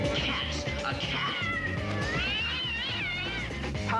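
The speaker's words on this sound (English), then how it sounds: "Cats. A cat." A cat meows and caterwauls in a series of wavering, drawn-out cries over a loud, busy background of music and other sound from a 1970s television program.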